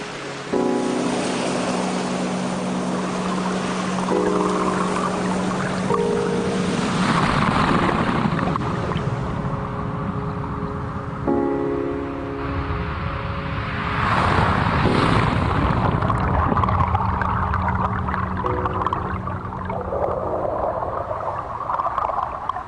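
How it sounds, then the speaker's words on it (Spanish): Seawater and tides wash through sand and pebbles, a continuous surging roar with shifting swells, with tonal hums layered through it. "el sonido del agua del mar a través de la arena y los guijarros"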